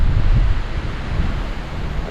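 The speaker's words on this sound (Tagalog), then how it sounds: "Lakas ng buyog ng hangin." Strong wind buffets the microphone outdoors near trees, a loud, constant low roar with gusty rumbling throughout and nothing else heard.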